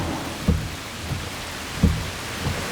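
Steady rain falls at a roadside bus stop, a dense even hiss with a couple of low rumbling thumps, no voices.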